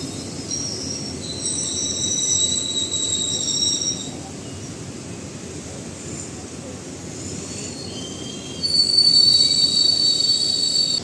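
A DEMU train departing Agasthiyampalli station rolls steadily with a low rumble and high metallic wheel squeals drifting in and out, growing louder near the end.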